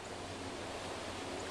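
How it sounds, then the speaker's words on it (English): Water flows steadily through a canal diversion, a soft continuous rushing hiss, faint and even throughout, with no voices or other sounds. "This beautiful babbling brook. Well, canal diversion."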